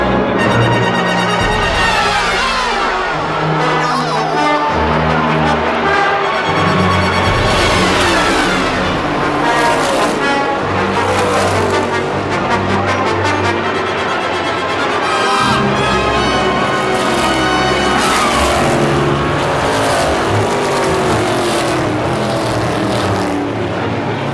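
NASCAR Cup Series stock cars roar around Michigan International Speedway, engines screaming loud and continuous as a three-wide pack passes, pitch rising and falling with each car's pass.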